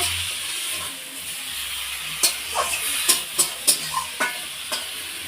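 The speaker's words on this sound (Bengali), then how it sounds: "মা এখন বাঁধাকপির তরকারি রান্না করছে" Cabbage curry in a pan gives off a steady low sizzle and hiss, then a run of sharp scrapes and clacks from stirring, close and fairly faint.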